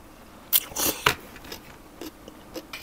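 Crispy pork rinds crunched while eating, a few sharp bites and chews close to the mic, the loudest burst early, then softer intermittent crunches with no talking.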